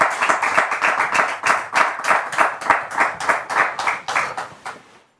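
Rhythmic audience clapping in unison welcomes a child onto a stage, with steady beats of many hands at a brisk tempo that fade out toward the end.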